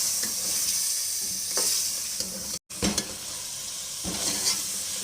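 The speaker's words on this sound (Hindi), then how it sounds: "भूनेंगे चिकन को मसालों के साथ।" Chicken sizzles steadily as it is stir-fried in a pan with ground coriander and garam masala for chicken cholay, with a bright continuous fry, a few stirring scrapes and a brief cut to silence midway.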